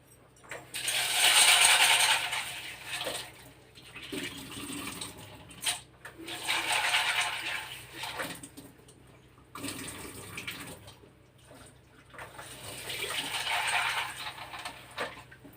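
Finger millet and pasta are washed by hand in water in a dish, giving soft swishing and sloshing in repeated waves, close and fairly quiet, with short pauses between rounds.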